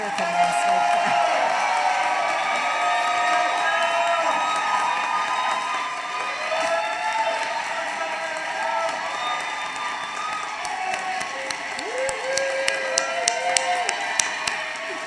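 A commencement audience at Stephens College applauds and cheers the winter graduates for the whole stretch, with steady dense clapping, crowd shouts and a few sharp claps standing out near the end.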